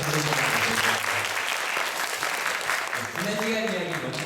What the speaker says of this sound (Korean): 같이 열심히 박수 한번 쳐주시면